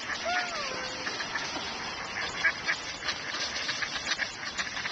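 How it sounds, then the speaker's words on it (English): Ducks at a duck pond quack repeatedly, close and moderately loud, with people's voices in the background. "Feeding the ducks."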